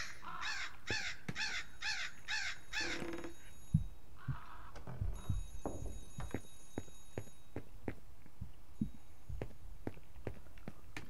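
A crow in the horror video game Remothered caws in a rapid run of five or six harsh calls, followed by scattered footsteps and clicks in a dim game environment, with no talk.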